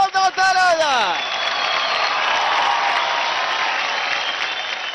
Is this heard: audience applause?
yes